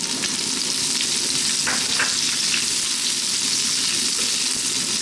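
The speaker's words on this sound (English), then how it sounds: "As you can hear, we're on a very high heat." Sliced onion frying in oil on very high heat for mushroom fried rice, a loud, steady sizzle that runs unbroken throughout with faint stirring scrapes and no talk.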